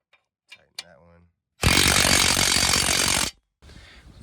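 A power tool, likely an impact wrench, tightens bolts during a front strut replacement on a 2020 Nissan Rogue Sport. A couple of small clanks are followed by a loud, close burst of rapid rattling hammering lasting under two seconds, then a fainter follow-up.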